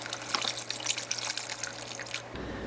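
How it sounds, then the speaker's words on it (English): Vegetable broth poured into a soup pot of sautéed parsnip, carrot and other vegetables gives a steady, close splashing trickle for over two seconds, ending abruptly, with no talking. "now we're adding in the vegetable broth"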